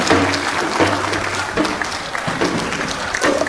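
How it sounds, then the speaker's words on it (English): Applause from the audience at the 19th Biennial National Delegates Conference in Ghana, a steady wash of clapping from many hands that runs throughout, fairly loud and even with no speech over it. "I expect a louder round of applause for His Majesty Nantona Muhammadu V"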